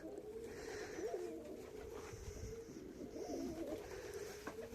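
Pigeons coo softly and repeatedly inside a pigeon loft, with low rolling calls and faint background rustle.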